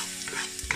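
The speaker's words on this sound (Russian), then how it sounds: "Опускаю сюда нарубленный чеснок" Chopped garlic sizzles in about three tablespoons of hot oil in a pan, a steady close crackling hiss with a brief stirring scrape near the end.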